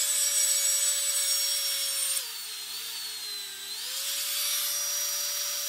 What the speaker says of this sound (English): I'm going to drill here, straight through.